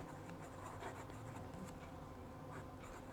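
A Diplomat Magnum fountain pen with a medium nib scribbles on paper, making a faint, continuous scratchy rustle heard close up against a low background hiss.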